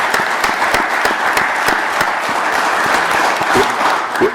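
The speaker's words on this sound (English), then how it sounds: "Let's give them a round of applause." A round of applause at a city council meeting in Williamsport, dense and steady clapping from the room with no break and a few louder claps near the end.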